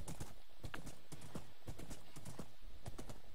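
Quick, even hoof clip-clops from Minecraft horses fill the whole stretch, with a faint whinny mixed in; near and continuous, with no voices over them.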